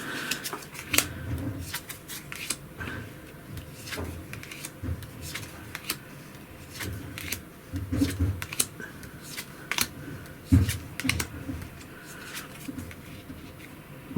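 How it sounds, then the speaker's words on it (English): Quick papery rustles and soft clicks of a Marvel Champions card game deck being handled and shuffled up close, in uneven bursts with brief pauses between them. "I shuffle back the deck"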